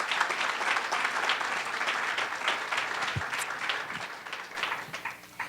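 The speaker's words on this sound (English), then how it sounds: "a round of applause for them" Steady applause from an audience for a foundation's team at a ceremony, many hands clapping continuously at moderate loudness for several seconds before tapering slightly.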